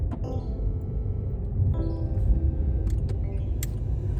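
Steady low rumble of a Volkswagen Polo 6 GT driving on the road, with tire and engine noise from inside the cabin and a few faint clicks and rattles over the continuous drone.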